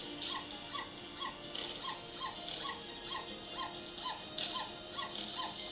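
A dog gives a rapid series of short, high yips and whimpery barks in a steady rhythm, fairly faint and thin.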